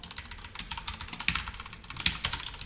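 Steady, fast computer keyboard typing close by, a busy run of overlapping keystrokes with a few sharper, louder taps.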